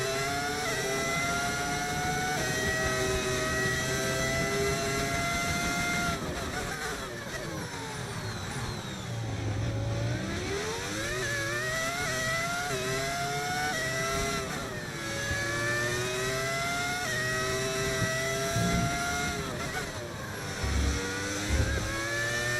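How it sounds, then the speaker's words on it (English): V10 Formula 1 car engine in the racing game F1 25, screaming continuously with rising and falling revs through repeated upshifts and downshifts, loud and sustained with no talk. "It's the V10 engine."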